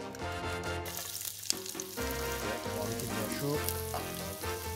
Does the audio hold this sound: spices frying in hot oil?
yes